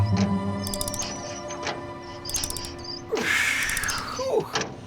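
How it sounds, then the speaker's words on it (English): A hand-cranked generator powering a ham radio station, its gears grinding and whirring near and loud in repeated turns, with creaks and clicking rising toward the end. "I'm cranking this generator till my arm is nearly dropping off."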